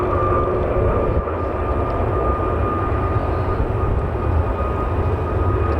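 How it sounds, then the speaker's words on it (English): An Etihad Boeing 777 airliner pushing back at Manchester Airport, a steady loud roar of jet engines and ground noise with a constant whine, heard from a distance. "the Etihad 777 has finally begun its pushback"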